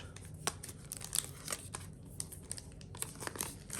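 Plastic wrapping and packaging of a Digiland Android 10.1-inch 32GB gray tablet crinkling and tearing close up in a quick series of small rustles and rips, quiet and without talk.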